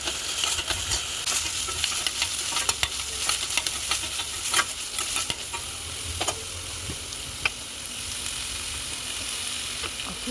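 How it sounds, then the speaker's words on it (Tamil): Paneer stuffing being sautéed and stirred in a pan for tandoori momos: a steady, close sizzle of frying with scraping spatula strokes and occasional clinks throughout, no talking. "மொத்தமாக போட்டு சாட்டே பண்ணிவிட்டு நம்ம ஏற்கனவே ரெடி பண்ணி வச்சுருந்தோம் பன்னீர் ஸ்டஃபிங் இருக்குல்ல, அதை அப்படியே இதுக்குள்ளே போட்டு நல்லா மிக்ஸ் பண்ண போகிறோம்."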